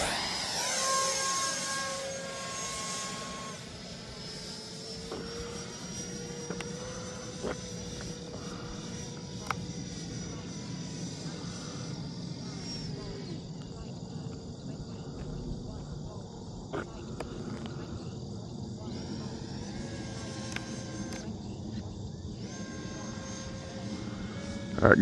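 A Freewing J10A 90mm electric ducted-fan RC jet flies overhead with a whistling whine that sweeps up then down in a Doppler pass, fading to a distant drone over chirping crickets.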